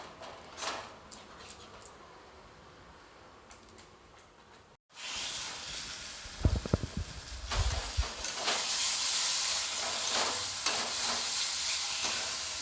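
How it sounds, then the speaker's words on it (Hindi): Masala and tomato fry in hot oil for a matar mushroom dish. A faint background hiss gives way, after a brief gap, to a louder, steady sizzle, with spoon scrapes and stirring knocks partway through. "अब मैं इस मसाला और टमाटर को एक साथ अच्छी तरीके से 2-3 मिनट तक भून लूँगी।"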